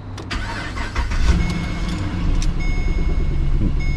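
A car engine cranks and starts up, turning over briefly before settling into a steady, fairly loud idle, with no talk.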